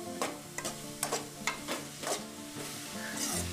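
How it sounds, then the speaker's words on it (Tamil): Mushroom rice fries in a pan over a high flame, loud crackling sizzle broken by rhythmic stirring scrapes and spoon knocks that come about every half second, then a steadier hiss. "ஹை ஃப்ளேம்லேயே வச்சு ஒரு 2-3 மினிட்ஸ் நல்லா ஃப்ரை பண்ணி விட்டாலே போதும்."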